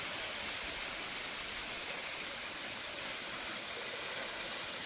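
Double Falls in Oregon pours with a steady, even rushing hiss, a constant broadband wash of falling water with no breaks.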